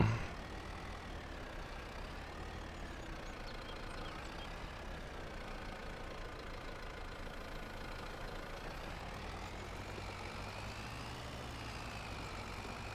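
Old tractor hauling a shallow tillage implement uphill across a farm field, a steady mid-pitched engine drone heard from a distance, continuous and fairly faint with slight rises in pitch.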